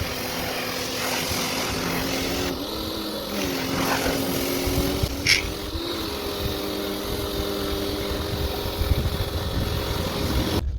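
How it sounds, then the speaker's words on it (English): A pressure washer cleaning a stripped-down vintage butcher's bicycle: a continuous, loud, droning motor hum with a hissy spray layered on top, fairly even throughout with a few brief shifts in tone and no talking. "then I'll get it pressure washed."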